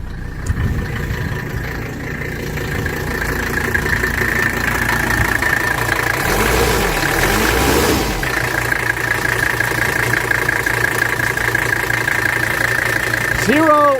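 A cold 1984 Mercedes 300D diesel engine idles steadily throughout, a low continuous rumble with a faint knock, close by and loud.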